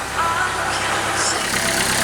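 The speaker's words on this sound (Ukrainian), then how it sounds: "Так, В даний момент двигун працює таким чином." A Renault Logan engine runs at idle up close, giving a steady, even mechanical hum and whir with a faint rhythmic pulse, unchanging throughout with no talk.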